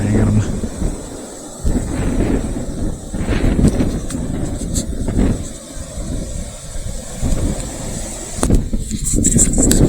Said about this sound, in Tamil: நான் காற்று எப்படி அடிக்கு பாருங்க பயங்கரமாக.